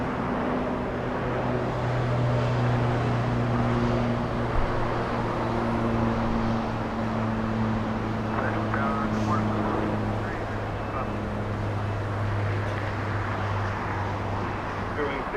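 An American Airlines Boeing 737 taking off from LAX, its engines a steady, loud roar that sustains throughout, with a voice talking over it.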